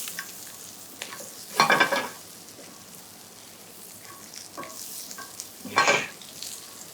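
Minced garlic fries in a pan with a quiet, steady sizzle, broken by two louder bursts of stirring or scraping.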